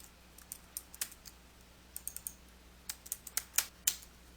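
Typing a formula on a computer keyboard in Microsoft Excel, with irregular bursts of crisp, close key clicks clustered in quick runs separated by short pauses, alone without speech.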